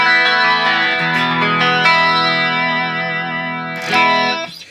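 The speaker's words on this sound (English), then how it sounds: "you can hear some chorus on there" Electric guitar with a built-in amp, set to a clean tone with chorus, rings out sustained strummed chords that shimmer and swirl steadily for several seconds, followed by a fresh strum near the end.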